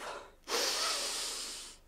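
A person imitates a polar bear sniffing the air with one long, loud, breathy inhale after a brief pause, close to the microphone.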